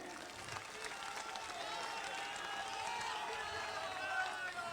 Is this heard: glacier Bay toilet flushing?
no